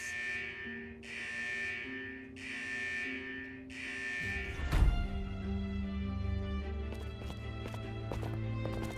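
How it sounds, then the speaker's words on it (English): A central vault alarm in the game Wuthering Waves sounds four evenly spaced, harsh buzzing blasts, then gives way to a deep rumbling impact and layered mechanical tones and clicks, loud and close. "Is that the central alarm of the vault?"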